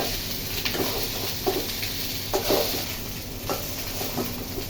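Rice frying in a pan on a home stove, a continuous sizzle broken by repeated scraping and clinking stirs at an uneven rhythm, close and moderately loud.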